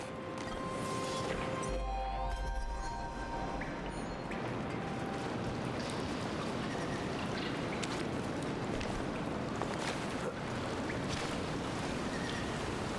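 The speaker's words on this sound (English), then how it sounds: "Through the waterfall." A waterfall in the video game Palia gives off a continuous loud rush of pouring water, dense and steady throughout, with a brief tonal game sound near the start and no talking.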